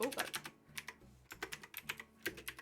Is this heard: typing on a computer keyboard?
yes